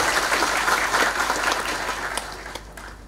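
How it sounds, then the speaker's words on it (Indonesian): A hall full of people applauds graduates at a diploma ceremony for associate and applied bachelor's degree holders, a dense, steady clatter of many hands that thins and fades over about three seconds. "Tepuk tangan buat sarjana."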